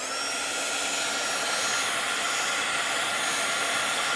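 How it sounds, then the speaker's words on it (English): A heat gun blasts hot air over resin on gilded leaf-skeleton earrings to pop bubbles: a loud, continuous blowing roar that stays steady from start to finish, with no voices. "I'm going to hit that with my heat gun again"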